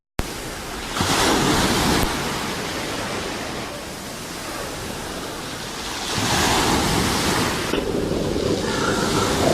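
Sea waves breaking on a shore, loud washing surges of surf that swell, ease off and swell again, heard alone with wind-like noise and no talk.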